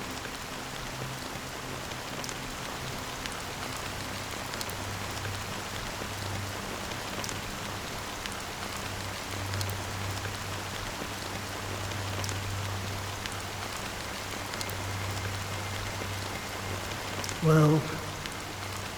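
Rain falling in the Honkai: Star Rail video game, a steady dense patter with a low ambient hum running underneath throughout, and a brief louder tone near the end.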